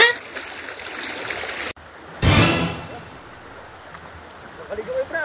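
A strong river flows steadily during a crossing, a continuous rushing wash with a loud splash burst in the middle and voices nearby.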